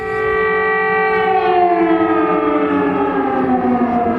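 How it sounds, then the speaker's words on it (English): An air raid siren wails loud and steady in Ukraine, its tone slowly sliding downward as it winds down, with no voices over it. "When the air raid sirens sound, Katya says she's not scared, just angry."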